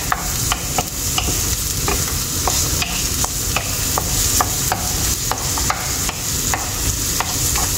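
Onions go into a hot frying pan for pancit canton and are stirred, producing a continuous loud sizzle with regular scraping clicks of the utensil against the pan roughly every half second, close up and without talk.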